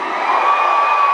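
A big carnival parade crowd roars a long, sustained shout of cheering, dense and loud throughout, with no single voice standing out.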